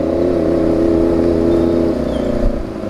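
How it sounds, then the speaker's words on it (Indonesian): A four-cylinder Kawasaki ZX25R motorcycle engine on a night ride, a loud steady high-pitched roar that holds, then drops off as the revs fall near the end. "Beda sih raungan dua silinder sama empat silinder ya."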